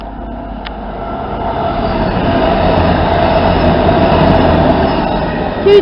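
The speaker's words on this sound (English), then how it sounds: "About to pass through platform number 2, we have a cross-country service from Bournemouth to Manchester Piccadilly" A CrossCountry train from Bournemouth to Manchester Piccadilly runs through platform 2, a loud, sustained rumble and roar of wheels and engine that builds and holds, ending with a sharp squeal.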